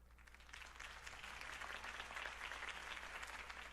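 Steady applause from a crowd in a Batman video game, continuous and even throughout, over a low constant hum.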